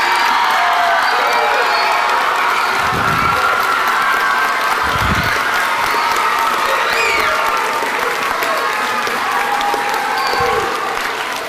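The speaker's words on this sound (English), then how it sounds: "I want everyone else to give us a round of applause" Loud, dense applause from elementary schoolchildren and teachers at a school event, with cheers and whoops rising above the steady clapping. A few low thumps break through the sustained roar.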